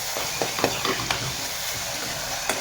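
Tomatoes cooking in a pan for a village-style amti, with steady sizzling and a few sharp scraping clicks from stirring, close and alone.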